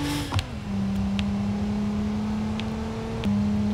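A car engine in the BeamNG.drive driving game drones at a steady pitch, dipping lower twice as the revs change, with no talk.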